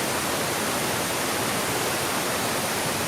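Ka-Ang waterfall near Kaeng Krachan flowing after morning rain, a dense, steady broadband roar of falling water, loud and continuous with no voices.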